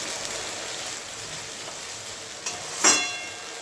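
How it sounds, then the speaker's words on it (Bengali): A spice paste of garlic and ground tomato fries in a pan with a quiet, steady crackling sizzle, and a single brief louder stir near the end. "মশলাটা ভালো করে ভালোভাবে একদম ভেজে নেবো, তাহলে কাঁচা কাঁচা গন্ধটা থাকবে না মশলা"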